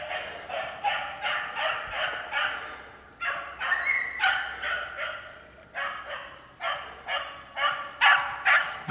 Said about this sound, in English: Sure, Java's barking, but it's just hard to tell.